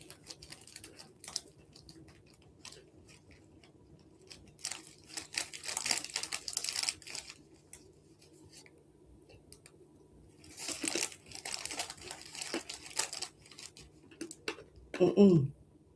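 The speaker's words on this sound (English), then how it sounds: "You probably hear that because you hear me crunching, can't you?" Someone crunches on crisp snacks close to the microphone, bursts of crackly chewing coming and going between quiet stretches.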